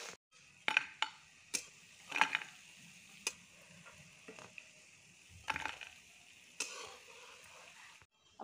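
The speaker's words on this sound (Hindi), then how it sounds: "अब इसको हम निकाल लेंगे सूखे प्लेट में" Fried Holi-special pakoras lifted out of hot oil onto a dry plate, a string of soft clinks and scrapes from a utensil against metal, faint and close, spaced a second or so apart over quiet sizzling.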